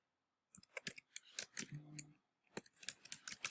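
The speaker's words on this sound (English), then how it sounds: "all you need to do is type in Binance" Light, quick keystrokes tap on a computer keyboard in two short bursts separated by a brief pause, close and quiet, with no talking.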